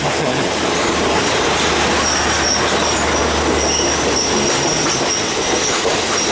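A Kantang–Bangkok sleeper train on the southern line roars loudly and steadily along the rails. Wheels squeal at a high pitch and a rumbling clatter continues throughout, with no voices.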